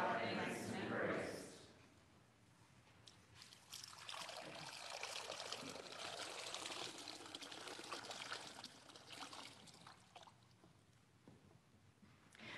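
Water poured during a baptism in a church service flows as a soft, steady stream for several seconds, quiet and close, with faint voices around it.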